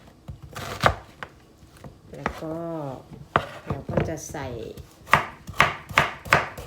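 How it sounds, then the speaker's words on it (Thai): A knife dices onion on a cutting board for a pork stew, with sharp, close chops in quick runs of several strokes and someone speaking between them. "หั่นหอม หั่นเป็นลูกเต๋าพี่น้องน้อยใหญ่"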